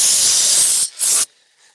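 A loud spray hiss lasts nearly a second, cuts out briefly, then bursts again for a shorter spurt before stopping, during an oil change on a Honda car.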